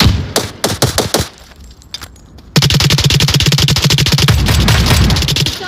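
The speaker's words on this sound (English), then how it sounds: "I heard a bunch of gunshots that's happening up here" Rapid bursts of gunfire from a video game shooting range, with a few sharp separate shots, a short lull, then a sustained, loud automatic stream of rapid shots to the end.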